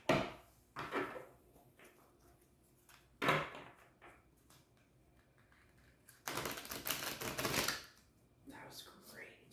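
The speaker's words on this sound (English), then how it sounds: "I'm getting better at shuffling thanks to these videos." Tarot cards being shuffled by hand, with crisp papery riffles and flutters in several bursts, one long shuffle near the end, separated by quieter pauses, close to the microphone with soft talking between.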